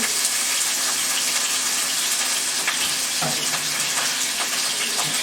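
Chicken pieces frying in oil in a pan on medium-low heat, a steady dense sizzle with a few soft clicks and spatters, close and even throughout with no talking.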